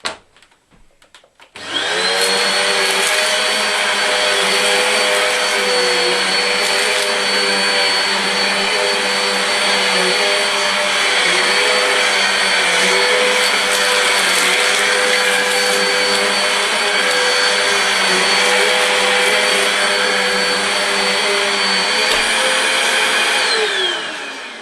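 A Hoover FR17 vacuum cleaner switches on with a thud and runs at a steady, loud whining drone for over twenty seconds, then its pitch starts to fall as it winds down at the end.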